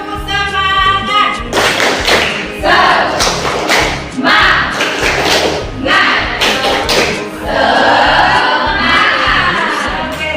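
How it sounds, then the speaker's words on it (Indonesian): An Indonesian school class performs a 'tepuk semangat' clapping chant, with loud rhythmic bursts of hand claps and thumps in groups, children's voices chanting along between the claps. "Ayo tepuk semangat."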